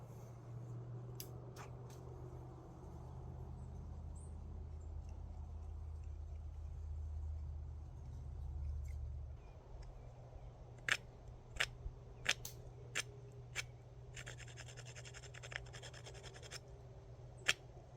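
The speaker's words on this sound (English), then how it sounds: "I just have to cut another notch in here and it should be good to go" A knife scrapes and carves a notch into a dry wooden fire board outdoors, a series of sharp, close, crisp cuts in irregular rhythm over a low rumbling background hum.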